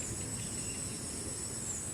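A steady, high insect trill runs continuously without pause, cricket-like, over a faint low background hum of an aeroplane, in a garden.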